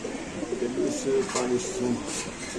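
Soft, repeated cooing from several Pakistani pigeons, low and rhythmic, continuing steadily over a murmur of background noise.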